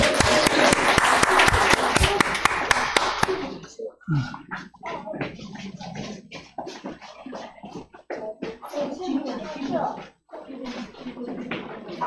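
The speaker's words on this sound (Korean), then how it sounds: "우리 먼저 박수를 한번 하냐 할까요?" A church congregation claps during a Sunday worship service, a dense, loud burst of applause at the start that then gives way to scattered claps under murmuring voices and talk.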